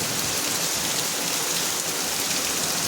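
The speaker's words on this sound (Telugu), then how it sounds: "ఫస్ట్ టైం ఇంత వాన కొట్టుడు" The first heavy monsoon rain of the season pours down in a dense, steady roar of drops hitting surfaces, loud and unbroken throughout.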